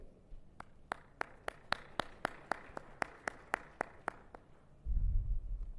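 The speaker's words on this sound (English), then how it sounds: "let's give a good round of applause" Summit audience at a cyber security conference clapping in a steady, evenly spaced rhythm, about fifteen crisp claps at moderate volume, ending in a low rumbling noise.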